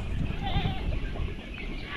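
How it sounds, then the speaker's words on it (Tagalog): A white goat on a farm bleats faintly amid steady outdoor background noise, with a low rumble underneath; other livestock or fowl may be nearby. "Meron tayong puting kambing dyan."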